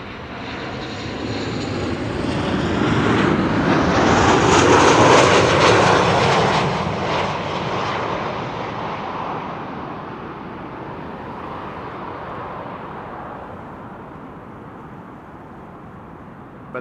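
A Transavia airliner arrives at Amsterdam Schiphol, its loud engine roar swelling to a peak at close range before gradually fading as it passes, with no talk over it.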